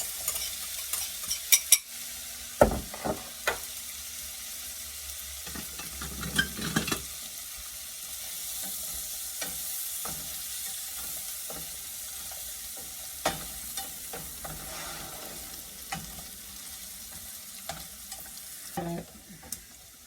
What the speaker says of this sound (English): Gonna let that saute for a little bit.